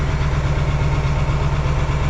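A four-wheel-drive tractor engine runs steadily while row cropping in a corn field, a loud, constant low rumble with heavy broadband noise and no pauses.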